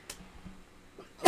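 A single short, sharp sneeze bursts out at the very end, loud and close after near silence broken by a couple of faint small noises.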